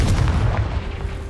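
Confringo fire spell blasting in Hogwarts Legacy, a dense continuous booming rumble with heavy low-end roar and crackling bursts, loud and sustained with no voices.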